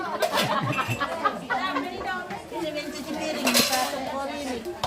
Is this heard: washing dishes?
yes